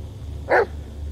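A single short dog bark in the Blair Witch video game, heard once at moderate loudness over a low ambient game background.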